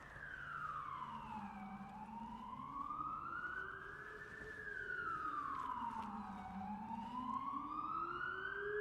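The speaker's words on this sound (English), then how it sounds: "Getting a nice ambulance break here." An ambulance siren passing outside wails in slow rising and falling sweeps, faint and distant, steady throughout with no talking.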